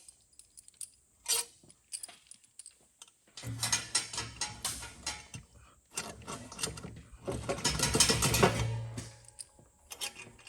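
Ratchet clicking while loosening bolts on a Ford 6.0 Powerstroke diesel engine during oil cooler work, with one short burst early on and then two longer runs of rapid mechanical ratcheting.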